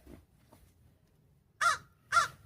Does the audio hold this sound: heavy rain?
no